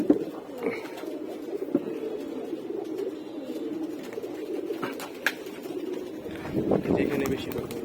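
Pigeons coo softly in a backyard loft area where the flock lands, a low continuous murmur of cooing with occasional wing flutters, while someone talks over it.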